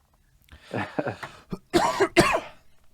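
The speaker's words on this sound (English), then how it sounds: "Sorry about the coughing." A person coughs several times in a short, harsh burst, the last coughs loudest and closest.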